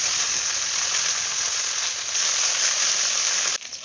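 Okra fries in oil, giving a loud, dense, continuous sizzling hiss up close that cuts off abruptly near the end.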